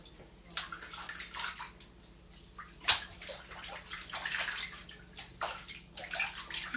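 A synthetic wig swished by hand through a basin of shampoo water gives steady sloshing and splashing with rhythmic surges and one sharper splash midway, recorded close with no talking.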